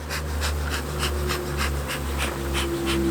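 Honey bees hum steadily at a hive while being smoked down during a switch to a poly hive, a dense continuous drone with a low mechanical-sounding undertone and soft pulsing puffs throughout.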